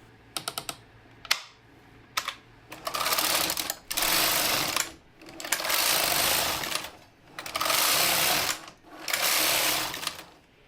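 A vintage knitting machine retrofitted for computer control knits, opening with a few sharp mechanical clicks and then running into four long, loud sweeping bursts as the carriage passes back and forth, with short pauses between passes and no talking.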